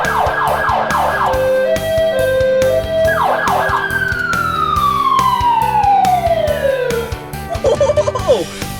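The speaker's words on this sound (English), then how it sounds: "The siren. Listen." An ambulance siren wailing up close, cycling through a fast yelp, a two-tone pattern and a long sweeping wail that falls in pitch before a few quick chirps, loud and nearly alone.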